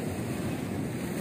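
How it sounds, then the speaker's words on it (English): Ocean surf on a Goa beach at low tide with big waves, a loud, steady roar of breaking water mixed with wind buffeting the microphone. "we've got waves crashing on this side"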